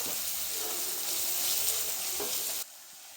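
Curry leaves frying in hot oil with ginger garlic paste for mutton curry, a loud steady sizzle close up that cuts off abruptly near the end.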